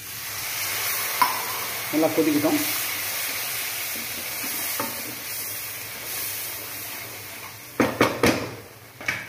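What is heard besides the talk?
water added to boiling curry leaf garlic kuzhambu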